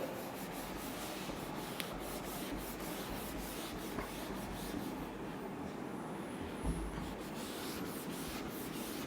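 Faint, steady rubbing as writing is wiped off a classroom board, a continuous scrubbing texture with a few soft bumps and no talk over it.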